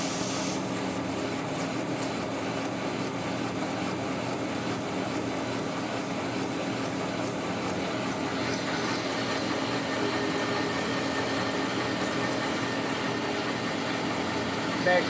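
A lathe boring out a worn walking beam suspension at 77 RPM, taking a 100-thou cut per side, produces a steady, low grinding hum with faint scraping that runs unbroken for the whole stretch.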